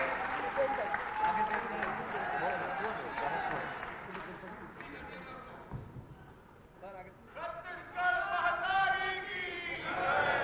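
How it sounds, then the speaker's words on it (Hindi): Strong applause from a political rally crowd in Raipur welcoming Amit Shah, sustained and fairly loud throughout, with voices and chanting mixed in over the clapping. "जोरदार तालियां बजा के आप भी स्वागत करें।"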